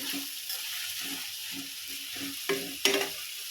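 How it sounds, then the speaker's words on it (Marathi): Onion dropped into hot oil for an Agri-Koli style moong dal, with a crackling sizzle, rhythmic scraping stirs and a couple of sharper clanks near the end, close up. "तेल आपलं गरम झालेलं आहे कांदा टाकणार आहे"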